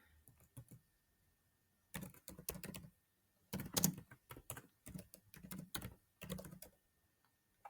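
Someone types a folder name on a computer keyboard, quick clusters of close, crisp key clicks in several bursts separated by short quiet pauses.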